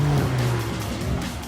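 A sports car driven hard through a slalom using four-wheel steering, its engine note rising and falling in a sustained loud roar with faint tire noise, close and continuous.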